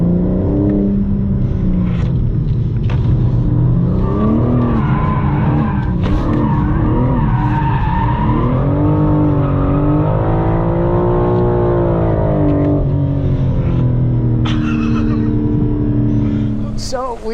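A BMW M3 Competition drifts on a track, its engine roaring steadily while the tires skid and squeal in long wavering sweeps, loud and close from inside the car.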